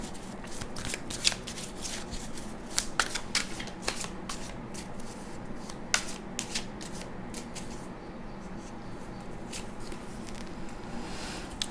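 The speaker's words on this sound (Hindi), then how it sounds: "So I have pulled 1 card here." Tarot cards are shuffled by hand close up, a steady stream of soft riffling and flicking with occasional sharper snaps, and no voices.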